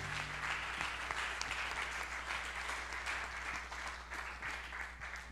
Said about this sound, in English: Come on, clap your hands strong.